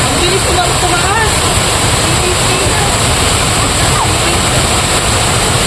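Water rushes in a loud, continuous roar, like a waterfall or fast stream heard up close, a broad steady wash with faint voices underneath.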